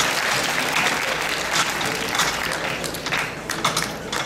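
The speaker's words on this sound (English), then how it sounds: "Big round of applause." Sustained audience applause fills a large hall during an anime convention masquerade, a dense, steady roar of many hands clapping with no talk over it.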